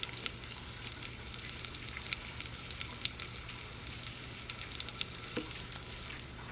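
Red chili and asafoetida fry in oil in a pan, giving a steady, close sizzle with crackling pops scattered throughout, no voices.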